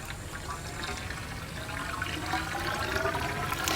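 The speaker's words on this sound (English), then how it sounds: "before that, never forget to fill the pump with water first." Water is poured into a pool pump to prime it before use at a natural swimming pool, a steady close rush and trickle of filling liquid that swells slightly toward the end with no talk.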